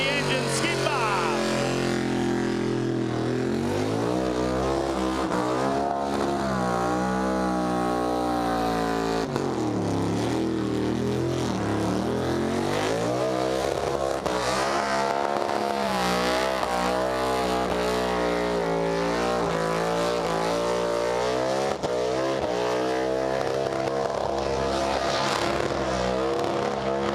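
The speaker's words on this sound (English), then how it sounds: "It's Adrian Cuthbertson in the blown 377 Giv against BG Engine Skidmar." Blown 377 V8 burnout cars at Summernats, a loud sustained engine roar with rising and falling revs and harmonic whine throughout, engines screaming continuously near and up close with crowd and commentary mixed in.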